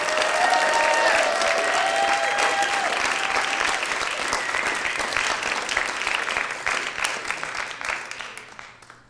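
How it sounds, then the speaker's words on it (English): A concert audience at a student composer showcase gives a final round of applause, sustained dense clapping with faint cheering early on, holding steady and then gradually thinning and fading toward the end. "I'd like to ask us to give a final round of applause for our composers tonight"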